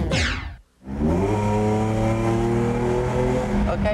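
An IndyCar race car screams around a road circuit at roughly 180–185 mph, its loud sustained engine note rising in pitch through a brief dip, then holding a steady high whine with a voice talking over it.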